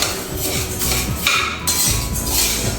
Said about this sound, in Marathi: तर गहू अगदी कलर चेंज होईपर्यंत आपल्याला व्यवस्थित भाजून घ्यायचे